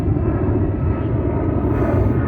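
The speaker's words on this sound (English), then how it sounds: "A lot of planes on a Wednesday morning." Fixed-wing aircraft passing overhead on a weekday morning, a steady broad engine roar that stays loud and even throughout, with no voices.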